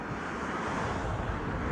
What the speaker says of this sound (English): It's a little windy, a little breezy.